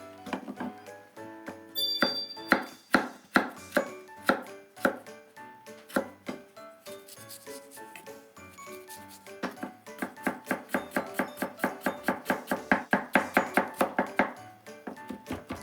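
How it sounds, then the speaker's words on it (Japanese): Knife chopping ginger finely on a cutting board while preparing miso curry milk ramen, a steady run of crisp, close taps that slows, then quickens into a fast even rhythm. "細かめのみじんにします。"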